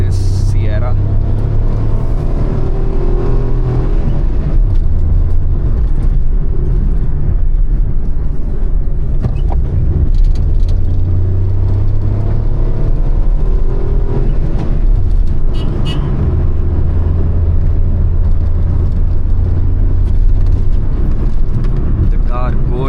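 A small hatchback's engine revs hard on a Himalayan mountain road, rising and falling through repeated accelerations and gear changes while overtaking, loud and close, with talking on top.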